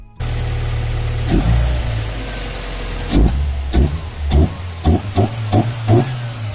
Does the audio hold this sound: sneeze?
no